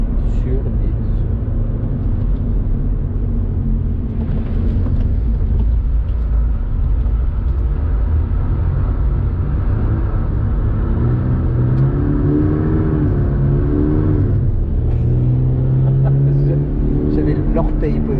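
A car engine speeds up during a driving lesson at Chennevières, a steady low rumble that rises in pitch over the clip, with people talking in the car throughout.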